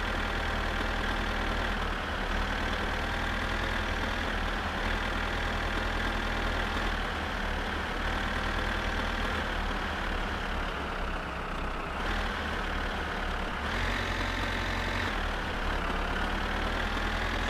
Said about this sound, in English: Whoa, God, we're over revving.